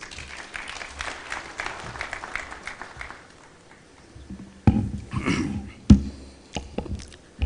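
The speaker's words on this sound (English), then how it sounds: "A round of applause, please." Scattered applause at a general assembly in Mombasa fades over a few seconds, followed by louder bursts of clapping and handling noise near the end.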